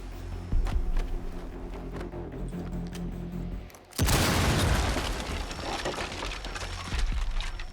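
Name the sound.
breach charge detonating on trapdoor, Rainbow Six Siege video game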